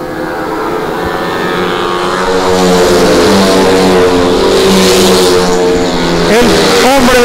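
Small 110cc standard-class racing motorcycles scream around a provincial oval track in Córdoba, a loud continuous high-pitched engine drone with shifting pitches as several bikes run close together and pass.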